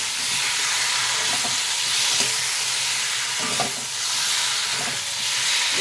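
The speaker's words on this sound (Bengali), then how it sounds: "ওই মশলাটাকে আমি এখানে দিয়ে দেব, ভালো করে নাড়িয়ে নেব।" A ground paste of cumin, mustard and green chilli is stirred into frying potatoes, giving a steady close sizzle with a few soft scrapes of the spoon against the pan.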